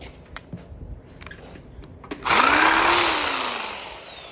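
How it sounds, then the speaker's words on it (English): A Sawzall reciprocating saw starts up after some faint handling knocks, then runs as a loud, steady, buzzing cut through wood close by, slowly easing off toward the end. "I'll come over here with the Sawzall"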